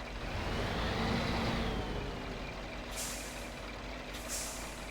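Heavy truck manoeuvring in Spintires: Mudrunner's American Wilds map: a steady, loud diesel engine drone runs throughout, with two short hissing air-brake bursts near the end.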